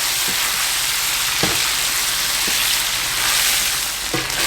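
Chicken sizzling loudly in a hot pan, a steady bright hiss with a few clanks of a utensil stirring at irregular intervals.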